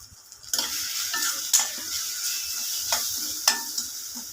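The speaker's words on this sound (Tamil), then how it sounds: "நல்லா மிக்ஸ் பண்ணிவிட்டுங்க." Spices such as chili powder, sambar powder, asafoetida and salt are stirred into a sardine fish curry in a pan, giving a continuous close sizzle with occasional sharp scrapes and taps from the spoon.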